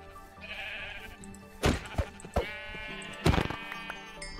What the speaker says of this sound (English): This was part of my plan at the moment, is to find sheep.